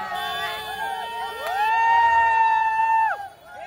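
Crowd cheering at a Dahi Handi human pyramid by Samrat Govinda Pathak in Badlapur as a seven-tier formation stands: a loud swell of shouts and whoops, with a long sustained whistle-like cry rising and held before cutting off.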